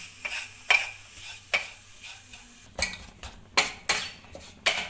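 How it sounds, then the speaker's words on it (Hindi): Gram flour and maida roasting in a pan, stirred with a spoon that scrapes and clanks against the metal in a steady rhythm of sharp strokes, with a soft sizzle between them. "हमने बेसन और मैदे को ब्राउन होने तक बहुत अच्छी तरह से भून लेना है।"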